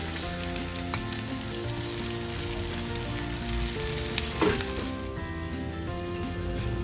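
Ivy gourd sautéing with onions in a hot pan, a steady close sizzle and crackle that runs on continuously with a brief stirring clatter near the end.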